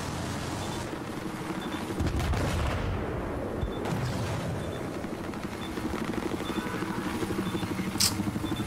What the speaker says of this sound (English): Chopper's still in the area.